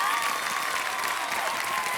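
Studio audience on the stage of the Hindi quiz show KBC breaks into steady, loud applause, a dense uninterrupted wash of clapping from a large crowd.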